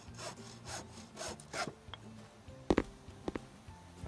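A hand saw cuts through wood in the House Builder video game, several rhythmic back-and-forth rasping strokes up close, then a few knocks and clatters of loose pieces.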